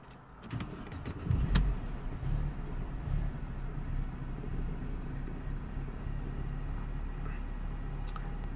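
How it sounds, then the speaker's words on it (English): A Mercedes C180 Kompressor with an air flow meter fault cranks with a brief burst of noise, then settles into a steady, low, even idle that holds for the rest of the stretch, with a few light clicks near the start. "we're gonna start the engine now"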